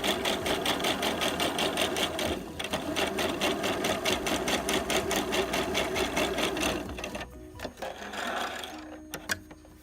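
A sewing machine set to a wide stitch runs a ruffle line along the corner of a fabric piece in one fast, even, close stretch of rhythmic whirring. The run slows and stops near the end, followed by a few light clicks.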